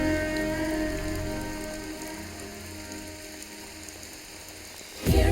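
Steady rain pours onto surfaces during an outdoor comedy film scene, a dense continuous hiss that holds even throughout and swells into a louder burst at the very end.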